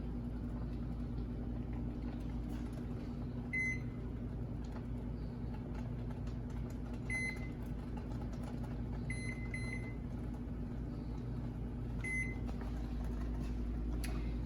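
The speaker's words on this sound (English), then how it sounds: "my timer just went off" Short electronic beeps sound in several bursts over a steady low hum, a timer chirping repeatedly at irregular intervals.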